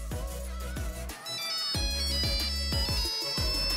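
Polyphonic ringtone from an old Finnish-made mobile phone plays a bright, beeping electronic melody of repeated notes, close and steady throughout.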